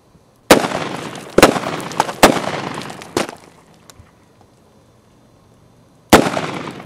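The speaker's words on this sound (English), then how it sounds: "And practice again shooting one-handed strong hand." A 2-inch snubnose revolver fires single one-handed shots at a range: four sharp loud cracks about a second apart, each with a decaying ring, then a quiet pause and one more shot.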